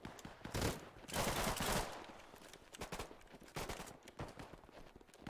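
Gunfire from a 1911 pistol and an MG42 machine gun in a video game, rattling in bursts and scattered sharp shots, faint and somewhat distant.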